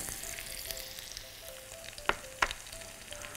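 Butter and oil sizzle steadily in a pan, a continuous fine crackle with a couple of louder pops, alone without talk.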